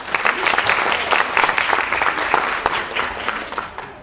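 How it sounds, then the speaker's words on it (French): Dense applause from a studio audience at a school-business debate broadcast at Lycée Voilin in Puteaux, a steady loud wash of clapping lasting about four seconds with no talk over it. "Veuillez les applaudir bien fort s'il vous plaît."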